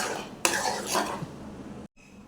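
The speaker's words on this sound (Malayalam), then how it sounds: "ലോ ടു മീഡിയം ഫ്ലെയിമിൽ വെച്ച് കൈവിടാതെ ഇളക്കി" Mango pudding mixture stirred in a pot on a low-to-medium flame, a spoon scraping and swishing against the pan in a dense burst that cuts off abruptly near the end.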